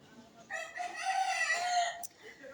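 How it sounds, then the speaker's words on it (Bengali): A rooster crows once, a clear drawn-out call lasting over a second, heard from a moderate distance against quiet surroundings. "তারপরে দেখো মুরগির ডাক"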